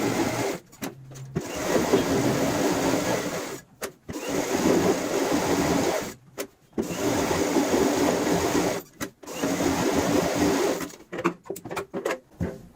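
A sewing machine stitches along a marked line on a 12 by 12 cushion cover, running in several steady whirring bursts separated by brief pauses, close and fairly loud.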